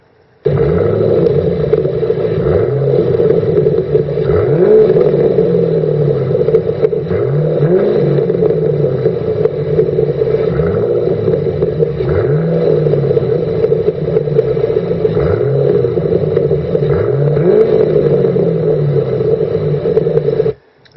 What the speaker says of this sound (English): And here is the V8 of the S197, which is a better comparison.